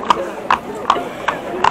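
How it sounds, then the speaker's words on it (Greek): Horse hooves clop at an even walking pace in a religious procession on Lesbos, five distinct hard strikes about half a second apart, close and clear. "να έρθουν τώρα τα δύο ντόπια άλογα"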